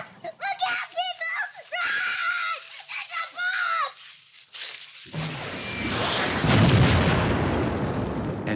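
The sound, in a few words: bomb explosion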